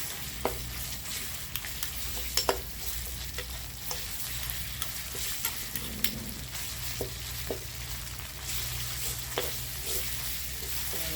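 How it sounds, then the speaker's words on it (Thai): Thai red curry paste stir-fried in a pan over low heat for a beef jungle curry, giving a steady close sizzle broken by regular scrapes and taps of a spatula, with no talking. "เราก็ผัดให้เครื่องแกงหอมเนาะไฟอ่อนๆ"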